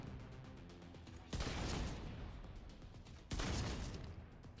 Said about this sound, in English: And you can hear the explosion.